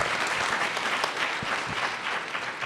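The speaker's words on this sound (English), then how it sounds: "Let's give this panel a round of applause" An audience at a Land Grant Symposium applauds a panel. Dense, even clapping fills the whole stretch with no break, from a crowd heard at moderate loudness.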